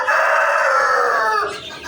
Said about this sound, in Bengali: এটা হলো টাইগার মুরগি